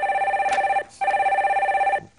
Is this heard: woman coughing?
no